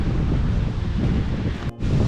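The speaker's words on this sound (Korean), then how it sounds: "여기는 바람이 있기 때문에 많이 부네요" Steady wind buffets the microphone on a mountain hiking trail beside a stream, a loud continuous rumbling roar that cuts out for a split second before resuming.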